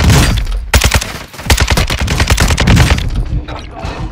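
Loud bursts of rapid gunfire fill a shooter video game, dense automatic volleys and close single shots crowding the whole stretch with little pause.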